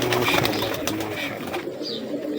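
A pigeon coos in soft repeated throaty pulses, close by, with the sound thinning out toward the end.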